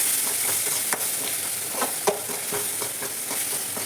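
Chopped vegetables tossed by hand with garam masala, salt, turmeric and chili powder, giving a steady soft rustle with a few small clicks, close and fairly loud, with no talking.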